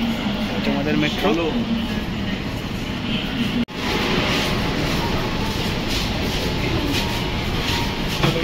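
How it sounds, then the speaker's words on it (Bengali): A Kolkata Metro train at Howrah Maidan station rumbles loud and steady with a broad rushing roar and faint clatter, briefly cutting out midway. "আমাদের মেট্রো"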